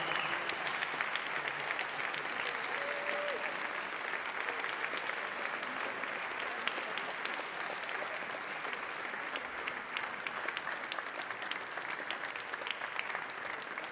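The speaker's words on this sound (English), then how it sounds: "Applause for all of those fantastic startups." A conference audience at a startup demo day keeps up steady, dense applause for the whole stretch, a broad wash of many hands clapping with no voices over it.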